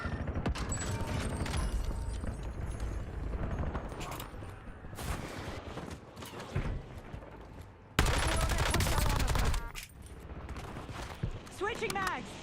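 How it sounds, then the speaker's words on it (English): Gunfire crackles in bursts during a Call of Duty: Warzone match, with scattered shots, a louder volley midway, and game voice lines and ambient battle noise around it. "Getting shot at from down below."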